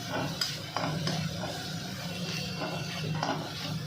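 A spatula scrapes and stirs chilli and ginger in a hot pan over high gas, soft sizzling underneath with irregular clinks and scrapes close by.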